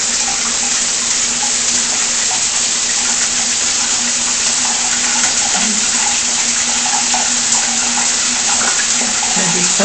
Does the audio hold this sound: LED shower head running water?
yes